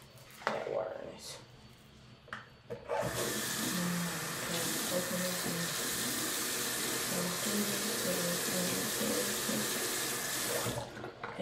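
Water runs steadily from a tap into a sink, a loud continuous hiss that starts abruptly and carries on for several seconds, with a person's voice faintly audible beforehand.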